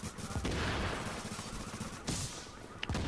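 Gunfire in Tom Clancy's The Division, a dense crackle of sustained automatic shooting with a few sharper distinct shots standing out near the end.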